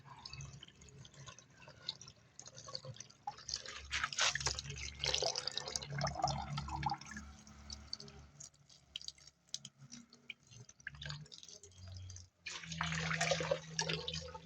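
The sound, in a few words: water dripping out through holes in a fish bag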